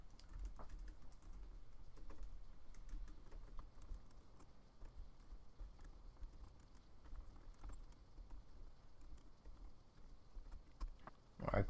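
Quiet, continuous clicking of a computer keyboard while Go code is typed, a rapid irregular patter of keystrokes with no talking.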